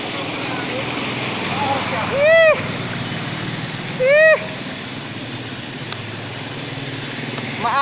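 Choppy floodwater in Malabon during the rainy season washes and churns steadily and loudly, with two swooping whistle-like sweeps passing over the continuous watery roar.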